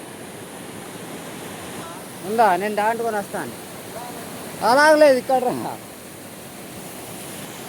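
A village waterfall sends up a steady, even rush of falling water that fills the whole stretch, with people talking close by in the middle.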